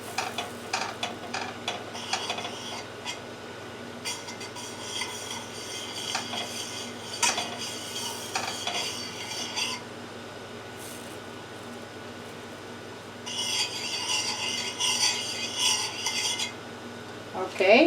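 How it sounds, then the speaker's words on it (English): Flour being whisked into melted butter in a pot for a Creole chicken gumbo roux, metal whisk scraping and clinking in quick repeated strokes, with a louder busy stretch near the end. "we're going to add the flour and use a whisk to bring it together"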